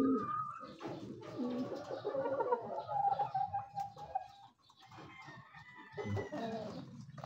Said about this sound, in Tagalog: Ito yung manok natin.